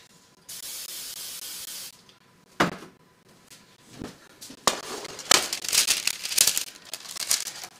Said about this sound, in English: I like to spray the sides with a nonstick spray rather than using parchment paper on the sides.